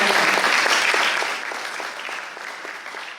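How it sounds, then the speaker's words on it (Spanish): An audience at an academic panel on urban culture research gives a warm round of applause, dense at first and then thinning out and fading to scattered claps. "un caluroso aplauso a nuestra"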